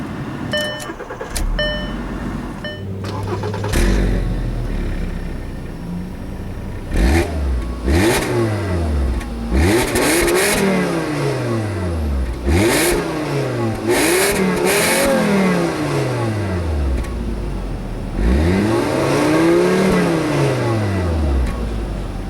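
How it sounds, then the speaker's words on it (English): A 2008 Volkswagen New Beetle engine starts up and revs, its sound rising and falling in repeated sweeps. The engine is loud and close, and a few short clicks come before it. No one speaks. "Engine starts up perfectly."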